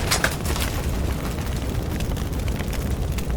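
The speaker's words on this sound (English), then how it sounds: "he breathed brilliant, multicolored fire" A cartoon dragon breathes brilliant multicolored fire in a 3D animated scene, a loud continuous whooshing roar with an initial burst, sustained and close throughout.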